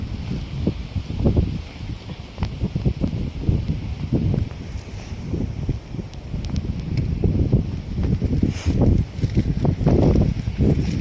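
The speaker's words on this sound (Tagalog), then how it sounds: "It's freezing lakas ng hangin." Strong, freezing wind gusts buffet the microphone in uneven rumbling bursts, with faint rustling and occasional voices underneath.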